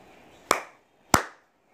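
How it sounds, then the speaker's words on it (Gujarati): Children clap twice in a classroom, two sharp, separate claps about half a second apart, loud and close, with quiet in between and no talk. "મિત્રો હવે કેટલી તાળી વાગી હમ ફરી બે તાળી વાગી"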